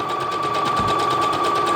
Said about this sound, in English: then you're going to stitch all the way down